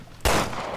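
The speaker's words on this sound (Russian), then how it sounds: "О, ты решил поддержать нас своими меткими выстрелами?" Gunfire in the survival-horror game Resident Evil Revelations 2: a single loud, abrupt shot bursts in after a quiet lead-in, its broad blast trailing off into a sustained noisy tail.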